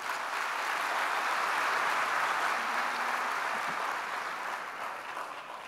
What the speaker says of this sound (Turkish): kocaman bir alkış isteyebilir miyim sizden